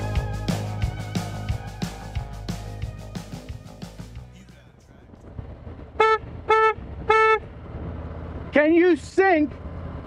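Music plays at first, then fades; a car horn honks three short times followed by a couple of longer, wavering honks, from a car travelling at about 40 miles per hour.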